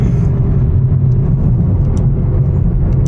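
A Camaro fitted with a bigger velocity stack pulls off briefly to warm its tires, a loud steady low engine rumble holding without pause and carrying no talk.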